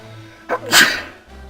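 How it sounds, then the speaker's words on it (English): A single sharp sneeze bursts out close to the microphone, a quick breathy intake followed by an explosive release, then quiet. "I'm gonna sneeze and I can't mute my microphone"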